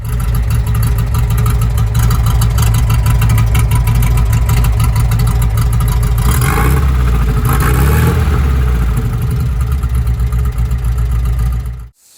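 A customized 1963 Volkswagen Beetle air-cooled boxer engine running steadily up close with a loud, throaty rumble, briefly revving near the middle before cutting off abruptly at the end.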